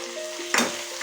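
Chopped tomatoes are stirred into capsicum and soybean chunks frying for chilli soyabean: a steady close sizzle with one sharp, louder stirring scrape midway, and no voices.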